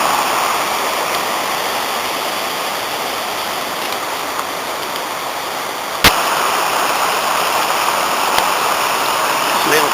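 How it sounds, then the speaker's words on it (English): A small tributary stream joins the river Ysgethin in Wales after heavy rain, giving a constant loud rushing, splashing flow of water close by, steady throughout with one sharp click midway. "Little tributary joining the Ysgethin, the first of the tributaries."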